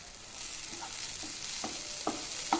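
Chopped onions, five large ones cut small, sizzle steadily in hot oil for a Malabar-style prawn roast, with a constant hiss and a few brief scrapes of stirring near the end.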